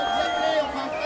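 A crowd cheers at a FISE World Montpellier 2015 skateboard qualification in a skatepark, with steady babble and whoops from the onlookers under a commentator talking over them.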